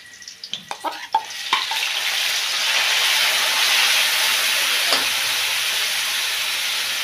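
Onions and tomatoes are dropped into a hot pan, a few clattering knocks giving way to a loud, close, sustained hiss of frying that holds steady, with a brief scrape partway through.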